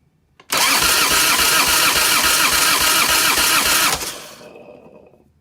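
A Harley-Davidson Evolution engine cranks on the starter from an auxiliary battery during a compression test, a loud rhythmic chugging for about three and a half seconds before stopping and fading out.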